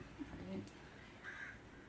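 Crows caw briefly in a domestic outdoor spot while being fed cooked rice, a couple of short calls over low background noise and faint voice.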